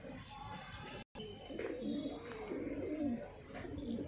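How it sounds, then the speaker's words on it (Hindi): A Mulla ji breed pigeon from Tonk gives soft, low cooing with a few faint chirps, close but quiet against light background noise. "बहुत मशहूर कबूतर उस्ताद मुल्ला जी के टोंक वाले"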